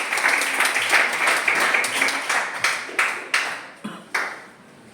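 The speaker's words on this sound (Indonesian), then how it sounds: "tepuk tangan dulu untuk kelompok" A small group claps together in a room, dense at first, then breaking into a few distinct, evenly spaced loud claps that die away.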